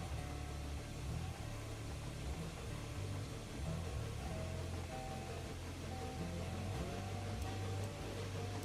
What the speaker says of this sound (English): The safeties are coming off.